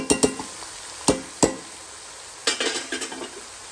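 Rabbit with prunes cooking in a pot, soft sizzling bed broken by several sharp metallic clinks and scrapes of a utensil against the pot, near and clear, no talking.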